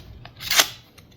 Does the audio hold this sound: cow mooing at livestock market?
no